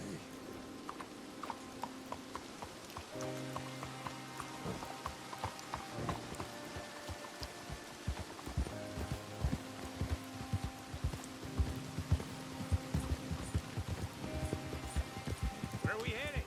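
Horse hooves clip-clopping at a steady gait in Red Dead Redemption 2, soft repeated thuds carrying on under a continuous wash of rain and ambient noise, with voices talking now and then.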